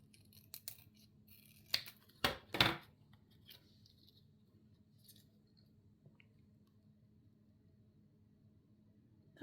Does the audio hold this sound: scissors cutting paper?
yes